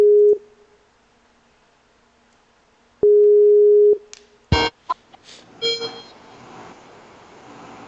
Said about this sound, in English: Chid, phone call incoming.